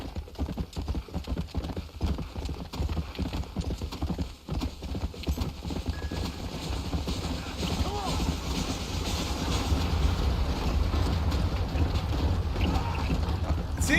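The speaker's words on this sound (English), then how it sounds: "Oh, I hear the train. Chugga, chugga, chugga." A steam train rumbles through the Western world of the video game Red Dead Redemption, a steady broadband rush mixed with clip-clopping horse hooves that swells slightly louder toward the end.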